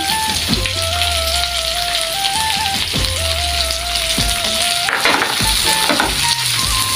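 Chopped onion goes into capsicum already frying in a pan, giving a loud, steady sizzle with a few faint tones running through it and no voices.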